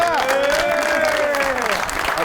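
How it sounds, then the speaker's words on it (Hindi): A studio audience applauds during a comedy talk-show interview, clapping continuously while a tonal voice or music line rises and falls above the noise. "हाय हाय हाय, तालियां।"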